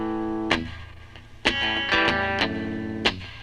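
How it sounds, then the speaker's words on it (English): Electric guitar notes ring out with reverb, sharp plucked attacks every second or so trailing into a lingering wash of sound. "It's like a reverb on the strings."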